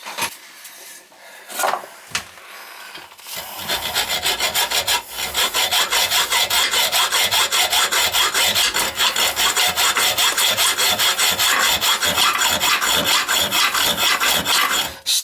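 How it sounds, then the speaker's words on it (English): Angle grinder cutting through a steel toilet bolt, a harsh continuous grinding rasp that starts after a few brief scrapes and runs steady and loud to the end. "Probably gonna have to grind that with my grinder to get it off of there."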